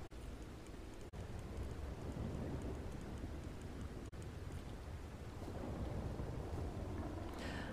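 Steady heavy rainfall in Red Dead Redemption 2 fills the whole stretch, with a few sharp thunder cracks cutting through the constant downpour.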